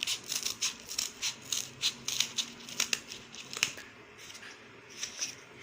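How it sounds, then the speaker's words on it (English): Scissors snip around a marked cardboard circle, a quick series of crisp cutting crunches and crinkles, close and fairly even in rhythm, trailing into lighter rustling. "and I am going to cut it now"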